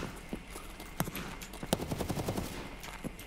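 Bursts of automatic gunfire in a shooter game, a rapid run of sharp cracks with a couple of louder shots standing out, fairly quiet and somewhat distant.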